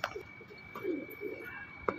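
A pigeon coos softly nearby, a few low throaty warbles across the stretch, with faint background noise and a steady high hum.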